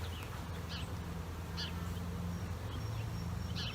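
A swarm of honey bees buzzing around a spot scout bees may be checking, a continuous low droning hum with brief nearer passes of individual bees, and occasional bird calls in the background.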